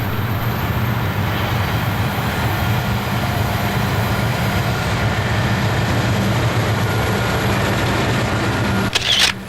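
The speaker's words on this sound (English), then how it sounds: "the green and yellow nose of the 1067 Reading Heritage Unit came around the bend" Reading Heritage Unit 1067, a green and yellow locomotive, leads a train around a bend and up a grade, giving a loud, steady diesel rumble with a brief clatter near the end.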